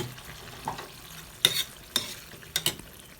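Pasta sauce with chili flakes sizzling and being stirred in a pan, a faint steady fry broken by four sharp spoon-on-pan scrapes and clinks in the second half.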